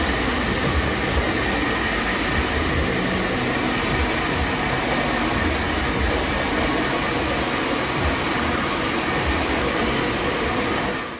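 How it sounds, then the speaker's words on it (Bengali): A hair dryer blows on freshly washed hair in a salon, giving a loud, steady broadband roar close to the microphone that holds unchanged for the whole stretch before cutting off at the end. "ওয়াশ করার পরে এটা এখন ড্রায়ার দিয়ে শুকনো করে নেওয়া হচ্ছে।"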